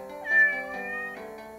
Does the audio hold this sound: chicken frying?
no